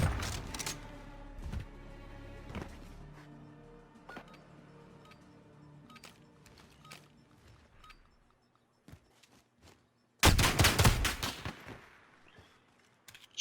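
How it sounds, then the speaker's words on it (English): Rapid bursts of gunfire from a 1v1 gunfight video game crackle through the first half, thinning into scattered clicks and quieter shots before a loud, dense volley erupts near the end. "Shots coming out."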